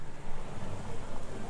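Steady rain falling in a dreary outdoor scene of the Sherlock Holmes The Awakened video game, a continuous soft hiss with low rumble throughout, no voices.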